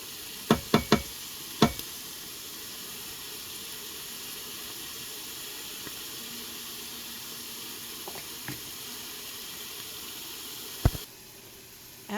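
Vegetables for chicken soup sauté in an Instant Pot, giving a steady close sizzle and hiss throughout. Several sharp knocks of a utensil against the pot come near the start and again near the end, with no talking.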